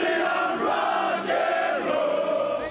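An angry crowd of construction workers protests violently outside the CFMEU headquarters in Melbourne, many voices yelling and chanting together in a loud, continuous roar.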